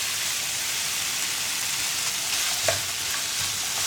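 Chopped onion hits chicken frying in a pot for a chicken tea-time snack, giving a steady loud sizzle with a brief scrape of stirring near the end, close up and without talk.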